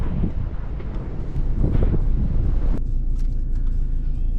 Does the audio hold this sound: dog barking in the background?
no